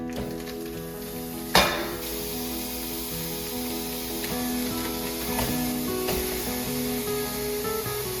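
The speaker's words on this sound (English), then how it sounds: "we're gonna start our recipe by browning 2 pounds of ground beef and 1 pound" Ground beef and ground pork brown in a pan with a steady, soft sizzle, punctuated by a sharp metallic clink early on and a few lighter utensil scrapes and taps throughout.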